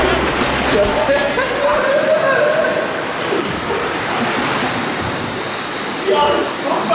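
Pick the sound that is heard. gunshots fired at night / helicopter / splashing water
splashing water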